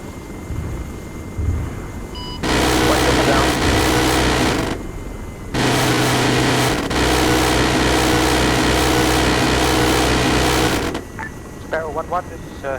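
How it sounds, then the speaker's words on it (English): Mi-8 helicopters approaching in Arma 3, two loud bursts of dense rotor and turbine roar separated by a brief lull, with softer engine noise and a short whistling sound before and after. "Several Mi-8s coming in from the west."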